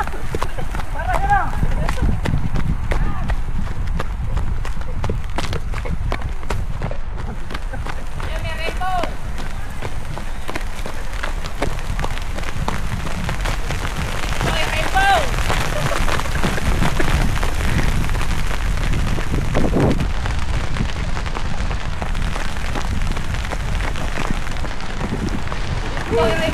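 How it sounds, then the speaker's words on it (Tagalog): Heavy rain pours outdoors in a steady, loud broadband wash lasting throughout, with voices talking over it as a storm arrives. "malakas ang ulan pare"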